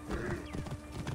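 Horse hooves clip-clop in the video game Assassin's Creed Origins, a quick, steady run of soft, close hoofbeats at low volume.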